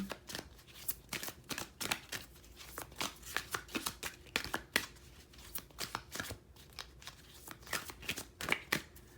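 Tarot cards are shuffled and drawn by hand close up, a run of quick riffling and flicking bursts in an irregular rhythm, each sharp card slap standing out against a quiet background.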